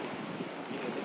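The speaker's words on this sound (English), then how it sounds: "It is raining." Steady rain with distant thunder at a Barcelona beach anchorage near Villanova, a dense even hiss of drops and wind rumble filling a short stretch with no voices.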